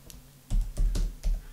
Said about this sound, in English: We can do this by typing in the URL bar